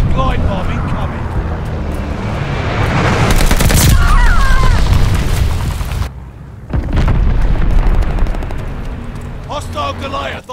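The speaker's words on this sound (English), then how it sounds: "Enemy has bombers on the way! Enemy glide bomb incoming!" Glide bombs detonate in a Call of Duty Vanguard Capture the Flag match, loud rolling blasts with bursts of gunfire and a brief lull before more explosions, with battlefield callouts mixed in.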